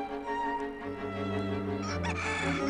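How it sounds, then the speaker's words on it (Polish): A rooster crows in a children's animal sound sequence, a sustained harmonic call rising toward the end, fairly loud and close with no talking. "Kogut"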